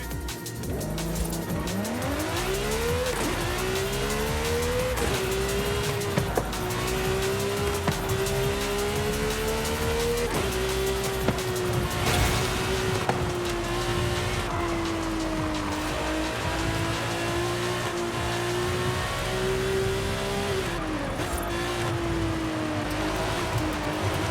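A Lamborghini Sesto Elemento racing in Forza Horizon 5, its engine note climbing through rising revs and gear shifts into a sustained loud drone, with tire squeal and rushing noise for the whole run.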